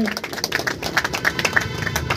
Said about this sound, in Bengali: তো ইমামুলের জন্য একটা হাততালি হয়ে যাক।